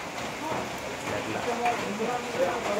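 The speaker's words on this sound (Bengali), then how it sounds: "বাইরে অনবরত অনর্গল হয়েই যাচ্ছে, বৃষ্টি হয়েই যাচ্ছে।" Heavy, unbroken rain pours outside during a rainy day in Ghatshila, making a soft, even hiss throughout, with some talk underneath.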